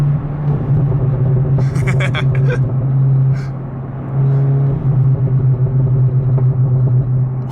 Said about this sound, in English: You gotta let the vlog hear a downshift.